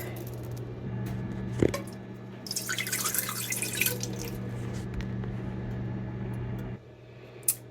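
Almond milk poured into a cooking pan, a soft liquid splash and trickle at close range over a low background hum, quiet and brief.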